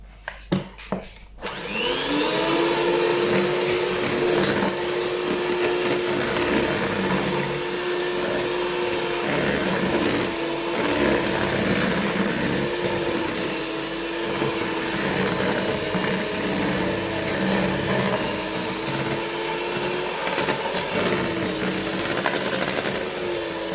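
A kitchen mixer whirs through chocolate chip muffin batter, a steady, close motor drone that kicks in after a second or so and runs unbroken with slight shifts in pitch.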